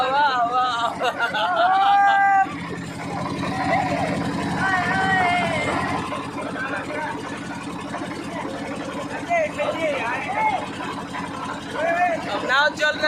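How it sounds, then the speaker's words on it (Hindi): A boat with people aboard, its engine chugging steadily at a constant level beneath loud, continuous chatter and voices of the people on board. "अब नाव चल रही है, सब लोग बैठे हैं।"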